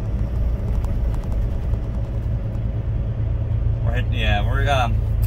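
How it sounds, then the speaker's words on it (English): A heavy truck engine rumbles low and steady throughout, with a brief burst of nearby talk near the end. "Listen to that engine just growl."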